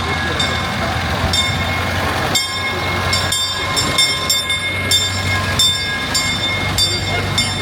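The Galloping Goose rail car, a converted truck-bodied former Colorado mail car, runs at Knott's Berry Farm with a steady rumbling drone and rhythmic clicking wheels, a few sharp metallic knocks, close and loud.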